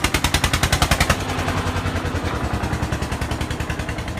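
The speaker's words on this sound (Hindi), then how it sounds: "शोर शराबे के लिए माफ़ी चाहूँगा, यहाँ पर काफ़ी भीड़ होती है ट्रैक्टरों की।" Many tractor engines clatter together at a crowded tractor market in Fatehabad, Haryana, with a loud rapid diesel chug close by that settles into a steady dense rumble.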